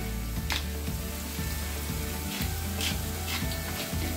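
Seasonings sizzling and frying in a pan while meatballs in tomato sauce are prepared, a steady close hiss with occasional stirring scrapes and no talk.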